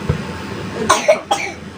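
A person coughs a few times indoors, short close bursts with a pause between them and no other talk.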